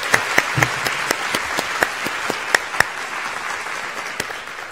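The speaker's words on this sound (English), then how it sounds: "join me in a round of applause for all our morning speakers and panelists" Audience applause for conference speakers and panelists at a morning plenary session in Japan, heard as a steady wash of many hands clapping with sharper individual claps popping out, moderately loud and without talk.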